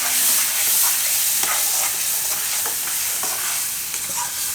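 Chana and spinach curry cooks in oil in a pan, giving a loud, steady frying sizzle close up, with light spoon scrapes and stirring clicks scattered through it.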